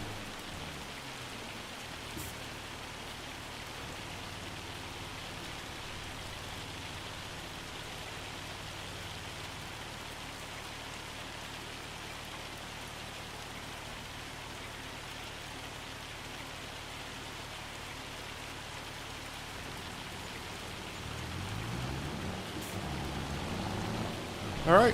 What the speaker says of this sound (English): And the rain has arrived.